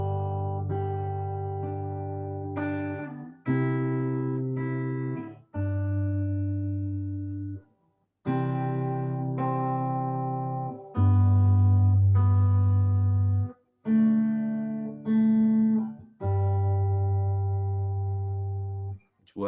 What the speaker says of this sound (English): if we want to accompany ourselves on the guitar, we can add chords to this